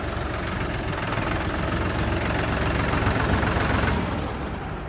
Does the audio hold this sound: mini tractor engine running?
yes